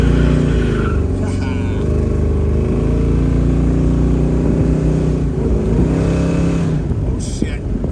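A 1969 Chevrolet Chevelle engine revs loudly and close by, its pitch climbing and dipping as it accelerates hard through the gears.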